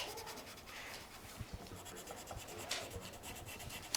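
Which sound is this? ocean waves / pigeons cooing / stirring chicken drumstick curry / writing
writing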